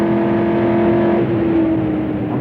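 A 1968 racing car accelerates around the Le Mans circuit, its engine a loud, steady, close drone whose pitch holds high with a slight dip partway through.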